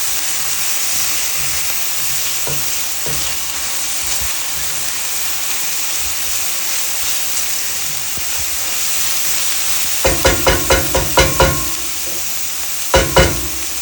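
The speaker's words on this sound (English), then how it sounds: "we want to try to scrape up some of that goodness from the bottom of the skillet" Soft onions sizzling in a skillet for creamy peri peri chicken, a steady close hiss, then bursts of rapid scraping strokes across the pan bottom near the end.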